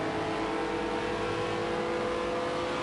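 Lamborghini Huracan GT3 racing engine at top speed in a racing video game at Daytona, a steady loud high-pitched roar held constant for about three seconds with no talk.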